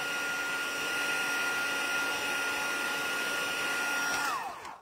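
Heat gun blowing hot air onto embossing powder on a handmade card, a steady loud whooshing roar with a constant whine that holds throughout before cutting off at the end.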